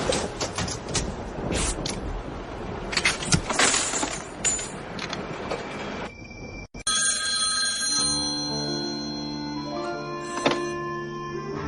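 A telephone rings repeatedly in a steady electronic pattern after a stretch of busier background activity, with a brief thump where the ringing starts, clear and fairly close.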